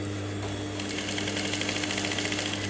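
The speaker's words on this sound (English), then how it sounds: "I'm stitching once again now" A sewing machine runs steadily and loudly, stitching ribbon held straight by a magnetic sewing guide, its fast even needle rhythm starting after a brief quiet moment and continuing without pause.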